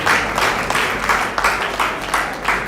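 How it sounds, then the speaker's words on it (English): A conference audience claps together in sustained, dense applause, close and continuous with no voices over it. "Please, let's clap for Dr."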